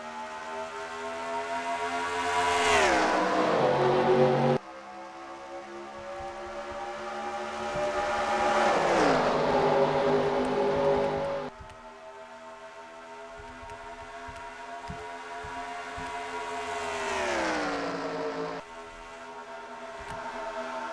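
Stock cars in a sim racing game at the Coca-Cola 400 pass by in repeated whining engine sweeps, each rising to a loud peak then dropping in pitch as the pack rushes past.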